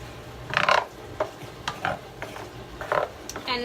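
A spoon stirs grated cheese into a skillet of toasted orzo and shrimp, giving a few soft scraping and squelching strokes spaced irregularly, close by with no talking.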